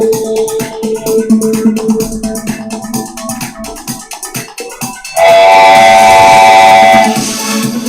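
A train sound effect plays during a live stock-market and Bitcoin trading stream: a loud, sustained rumbling burst with a steady whistle-like horn tone that lasts about two seconds and follows a stretch of busier, mixed sound.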